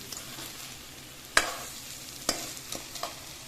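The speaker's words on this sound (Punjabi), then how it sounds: "ਲਓ ਜੀ ਆਪਾਂ ਕਰੇਲੇ ਪਿਆਜ਼ ਦੇ ਵਿੱਚ ਮਿਕਸ ਕਰਤੇ" A spatula stirs bitter gourd (karela) into fried onions in a pan, with a few sharp scraping clicks over a low, steady sizzle and no voices.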